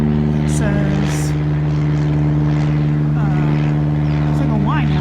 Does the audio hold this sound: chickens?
no